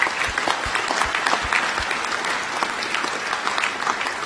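A graduation ceremony crowd at Monash Malaysia claps for the graduates, loud sustained applause with sharp individual claps standing out near the front, lasting the full stretch.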